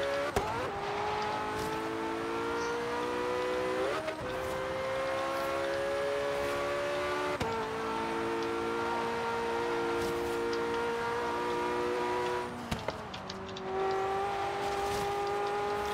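Porsche 918 hypercar engine racing on the Goliath track in a video game, a loud continuous high-revving whine rising through gears with brief shift drops, steady and close throughout.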